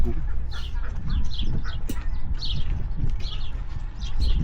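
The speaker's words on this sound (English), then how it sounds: "Fluffy chickens." Fluffy chickens clucking and chirping in a steady, busy chatter, fairly close, with some background noise and occasional higher bird calls.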